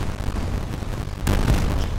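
Gunfire and explosions in the tank game War Thunder, a continuous loud rumbling battle din with a sharper burst of blasts partway through.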